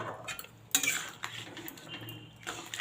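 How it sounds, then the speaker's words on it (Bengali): Fried eggs go into a pan of simmering potato-onion curry. Scattered metal utensil clinks and scrapes against the pan come through with soft stirring, fairly quiet and close. "এবার এর মধ্যে দিয়ে দিচ্ছি ভেজে রাখা ডিমগুলো"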